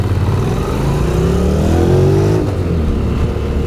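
A Honda NC750X 750cc motorcycle engine drones steadily while riding, its pitch climbing under acceleration, then easing off near the end, loud and close throughout with no talking.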